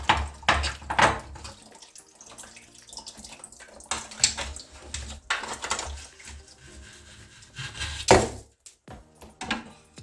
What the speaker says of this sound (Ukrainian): Вода ще залишилась трохи. Вся по-любому не зливається.